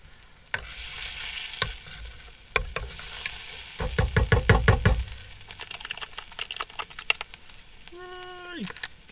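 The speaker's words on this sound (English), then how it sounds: "There's the garlic paste in. I just need to fry that in there for a couple of seconds," Garlic paste sizzling and frying in a pan on a tiny camper stove while making Korean fried rice, with spoon stirring and scraping clatter, a burst of louder sizzle midway and faint clinks, close and without talk.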